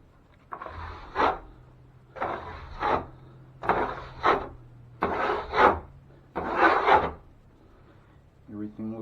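A drywall knife scrapes excess joint compound off a patched hole in a bathroom wall, five close, rasping strokes at an even pace with short pauses between, then a brief gritty flutter at the end.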